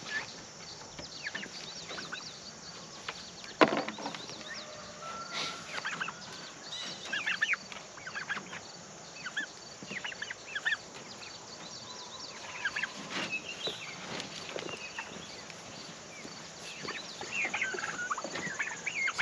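A flock of turkeys gobbles and clucks in scattered bursts outdoors, some calls close and sharp, others softer, over a steady background hiss.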